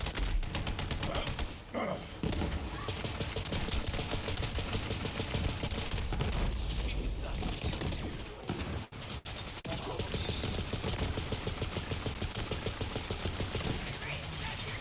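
Rapid gunfire from a weapon in the video game Borderlands 3 crackles in dense, continuous bursts for the whole stretch, loud and busy, with brief lulls and some game voice underneath.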